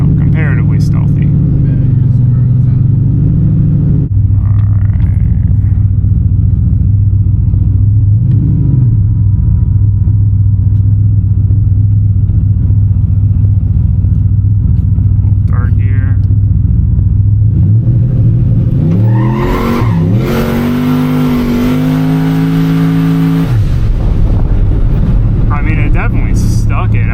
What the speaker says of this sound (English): It's so nice having a reasonably quiet exhaust.